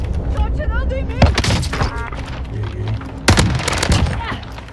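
Call of Duty: Warzone gunfights: rapid automatic fire and scattered single shots with a couple of heavy bursts, under busy game sounds and in-game voices speaking Portuguese.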